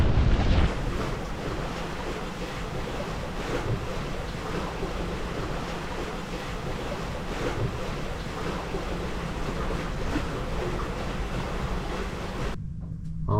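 A sailboat under way on calm water in the bay near Baie-Comeau, with a steady wash of waves and surf against the hull and continuous wind noise buffeting the microphone, loud and unbroken until a brief quieter moment near the end.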